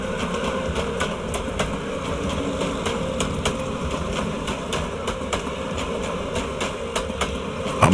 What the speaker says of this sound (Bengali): দেখুন, ট্রেনের আওয়াজ।